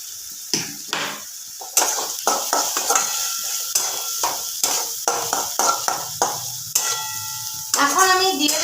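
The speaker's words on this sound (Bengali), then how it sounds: "মশলাটাকে ভালো করে কষে নেব।" Spice masala with coriander powder is stir-fried in a pan, a spatula scraping and knocking against the metal in a quick uneven rhythm over a soft sizzle.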